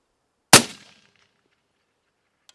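A single sharp shot from a suppressed budget rifle aimed at an orange 10-inch target cracks once and decays quickly into silence, with a faint tick moments later.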